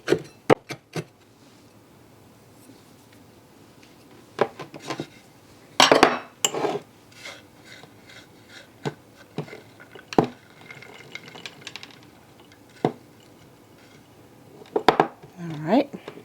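A knife chopping pecans on a cutting board in a home kitchen, with scattered sharp taps and short bursts of chopping separated by quiet gaps, close and moderately loud.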